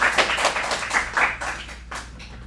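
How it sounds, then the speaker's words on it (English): A small studio audience at an acting showcase gives a short round of applause for an Arizona Lottery commercial scene, dense close clapping that thins and fades over a couple of seconds. "Give them a round of applause."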